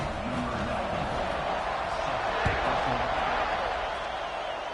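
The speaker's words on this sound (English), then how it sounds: "this crowd now ready to get behind them" A stadium crowd roars steadily at kickoff in a college football video game, a dense constant wash of cheering with a brief thump midway.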